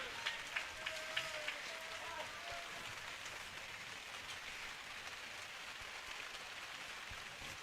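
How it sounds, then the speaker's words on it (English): Heavy rain pours steadily during a high school baseball game between O'Dea and Nathan Hale, a dense hiss with a few faint thumps early on and a voice murmuring underneath. "Rain is really coming down."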